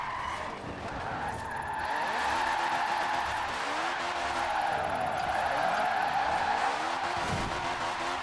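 A Citroen 2CV drifts with its tires skidding and squealing, a sustained rough scrub over the hum of its small engine, close and steady throughout.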